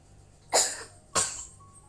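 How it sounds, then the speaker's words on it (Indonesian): A child coughs twice, two short, sharp bursts about half a second apart, close and fairly loud over a quiet room. "Tuh, kakak batuk tuh."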